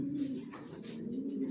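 Racing pigeons in a loft coo steadily in a low, continuous throaty murmur, close by, with a few faint higher chirps above it and no talk.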